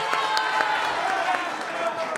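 A studio audience at a televised Hindi political debate applauds steadily throughout, a continuous wash of clapping at moderate level with no pauses.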